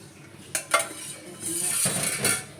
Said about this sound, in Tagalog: At lagyan na natin yung sabaw.